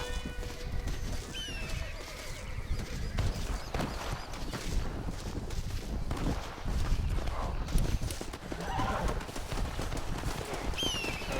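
A wild horse in Red Dead Redemption, out in the Mexican frontier, clops along with its hooves and gives a couple of neighs, amid outdoor game ambience.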